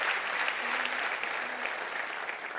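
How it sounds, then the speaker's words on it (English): A talent show audience at Česko Slovensko má talent 2019 applauds a volunteer brought on stage, a loud, full roar of clapping that holds steady and eases slightly toward the end. "Everyone give her some applause."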